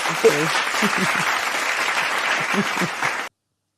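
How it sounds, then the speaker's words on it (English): Round of applause from a small audience at an interview, steady dense clapping lasting a few seconds with some voices mixed in, then cutting off abruptly. "Round of applause."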